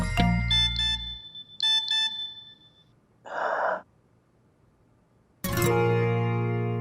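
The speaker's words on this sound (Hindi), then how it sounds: "सारा का नोटिफिकेशन" A phone notification chime plays several short bright tonal bursts, then a soft breathy burst, and ends with a louder sustained ringing tone.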